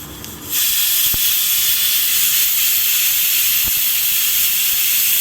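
Two dry red chillies drop into hot oil with turmeric while cooking chana dal and spinach, starting a sudden loud, steady sizzling hiss, close and continuous, with a couple of small pops.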